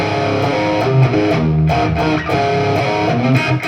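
Distorted electric guitar plays the verse of a song, a steady loud run of chugging, ringing chords and fills that carries through without any voice.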